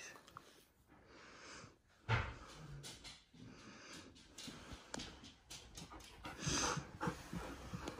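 Husky dogs with a puppy pant rapidly and close by in uneven bursts, with snuffles and light movement noises mixed in and no talking.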